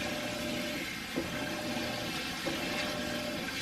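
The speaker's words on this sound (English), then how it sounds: "Every time I start filming, the washing machine's going." A washing machine running with water in a home kitchen, a steady, faint churning and rushing hum with a couple of soft bumps, unbroken throughout.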